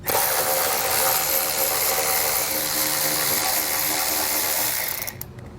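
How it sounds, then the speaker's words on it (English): Power driver with a T15 Torx bit backing out Torx screws while a Roadmaster Direct-Connect base plate kit goes onto a 2022 vehicle: a steady, close whirring buzz for about five seconds, then it stops. "we're gonna grab a T15 Torx bit, and we're gonna be removing, there's 3 Torx screws here and 3 here"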